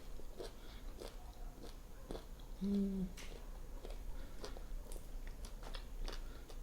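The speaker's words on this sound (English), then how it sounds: "I love roasted chickpeas because it gives it like a nice little crunch." Roasted chickpeas crunched and chewed in the mouth while eating a budget anti-inflammatory salad with dressing, giving soft repeated crunches and bites close up over a steady low background, with a brief spoken word.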